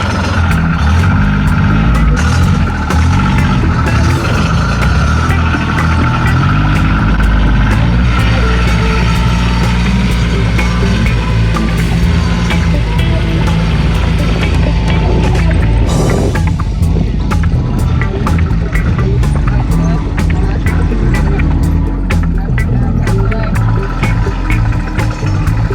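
John Deere Gator utility vehicle, military version, driving along with a steady engine drone and rumble that stays loud and close the whole time, with faint voices now and then underneath.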